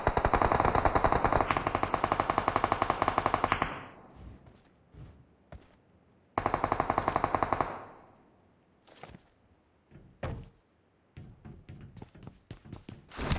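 Automatic gunfire in a video game: two long, loud rapid-fire bursts, the second after a short pause, followed by scattered single shots and thuds. No one talks.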